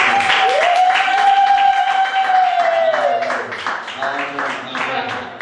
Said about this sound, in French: Acclamez très fort le roi de gloire